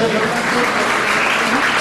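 A crowd claps to welcome a guest at a local function, a dense burst of applause filling the whole short stretch, with a voice faintly underneath.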